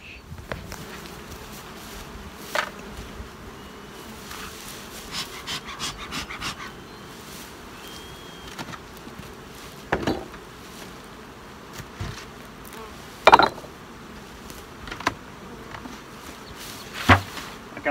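Honeybees buzz steadily around opened beehives during a summer inspection, a close, continuous drone with occasional sharp knocks and handling sounds from the hive equipment.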